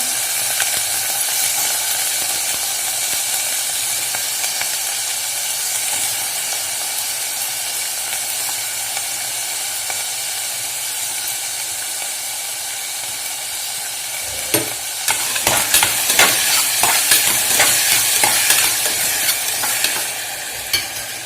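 Overnight-soaked green peas sizzle loudly in a pan for potato pea pulao, a continuous bright frying hiss. Later, rhythmic scraping stir strokes and crackles join in.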